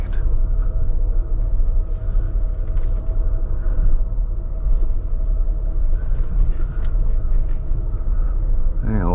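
A Mercedes W124 300E drives along, giving a loud steady interior engine and road rumble that continues throughout, with a person talking over it.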